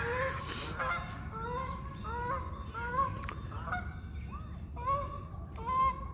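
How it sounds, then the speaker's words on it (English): Several geese honk repeatedly in an uneven series of calls, fairly distant and moderately loud, with no voices. "geese are coming back"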